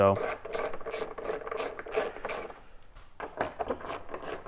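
Rapid clicking of a hand ratchet backing out Torx bolts from the seat of a 2024 Harley-Davidson Road Glide, close and crisp in quick bursts, with a brief pause before the clicking resumes.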